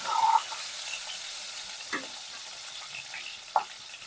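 Onion and green chillies fry in hot oil for a Nellore-style small fish curry, a soft steady sizzle broken by a few clinks and scrapes from a stirring spoon.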